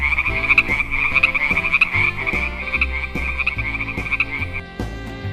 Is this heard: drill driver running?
no